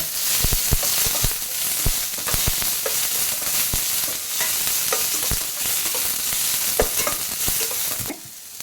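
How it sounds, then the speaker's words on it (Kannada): Curry leaves and chillies frying in hot oil in a pan, a dense, steady crackling sizzle with sharp pops and stirring scrapes throughout, close and loud with no talking, easing off in the final half second. "ಕರಿಬೇವು ಸೊಪ್ಪು ಮೆಣಸು ಈ ಮೂರನ್ನು ಫಸ್ಟ್ ಹಾಕ್ಕೊಳ್ಬೇಕು ಫಸ್ಟ್ ಹಾಕ್ಕೊಂಡು ಚೆನ್ನಾಗಿ ಸ್ವಲ್ಪ ಹುರ್ಕೊಳ್ಳಿ"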